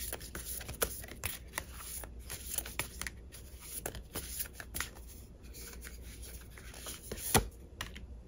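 Tarot cards being shuffled by hand during a fortune-telling reading: a steady run of soft riffling and rubbing card noise with sharper snaps scattered through, close and fairly quiet, with no voices.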